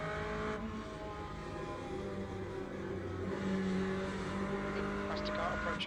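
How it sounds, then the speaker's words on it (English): Race car engine in Le Mans Ultimate, an LMGT3 race at Le Mans, droning steadily and loudly throughout as a faster car closes in from behind, with a voice talking over it. "Faster car approaching."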